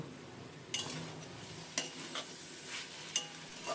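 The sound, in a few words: stirring sugar into potato, eggplant and greens curry in a wok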